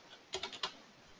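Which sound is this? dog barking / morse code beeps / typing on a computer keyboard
typing on a computer keyboard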